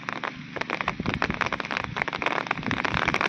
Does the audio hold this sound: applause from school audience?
no